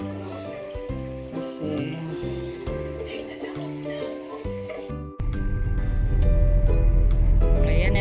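Water runs from a tap into a container, a steady rushing pour that starts abruptly partway through and stays loud, after a stretch of background music with brief talk.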